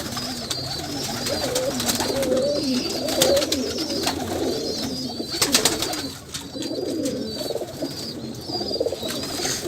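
A pair of Kamagar pigeons, a female with a male, coo steadily at close range in soft, repeated rolling calls, with faint chirps and a few brief rustling bursts in the background.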